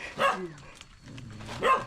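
An angry dog on Mt. Buli barks twice, close and loud, with a short gap of quiet whining between the sharp barks.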